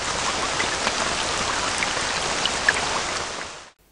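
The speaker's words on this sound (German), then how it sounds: "Es setzt nämlich heftiger Regen ein." Heavy rain pours down steadily in the Egyptian desert near Hurghada, a dense, continuous hiss of drops that stops abruptly at the end.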